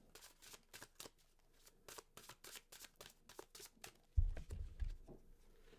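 Tarot cards shuffled and drawn for a reading: a quick run of soft, evenly spaced riffling flicks, close and quiet, ending in a few heavier thumps as cards are laid down.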